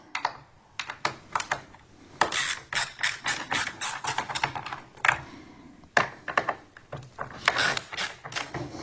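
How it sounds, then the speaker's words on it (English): Screws being backed out with a T20 driver during an American Modified Empire grille install on a Jeep JL or Gladiator JT, heard as close, rapid clicking and ratcheting bursts in two runs with a short pause between, no talking. "This is where you're going to take your T20 and remove these two screws"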